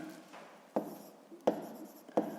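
Pen on paper as a maths exercise is worked by hand: a soft, close scratching with three distinct taps or strokes landing at a steady pace, with no talk over it.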